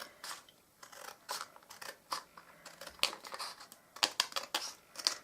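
Scissors snipping through a beaded watercolour bookmark, a series of short, close crisp cuts with paper crinkling between them, quiet and steady without any talk.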